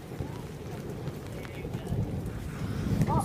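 Loud thunder rumbling through a rainstorm outdoors, a steady low roar with rain, building louder toward the end, with brief voices in the background.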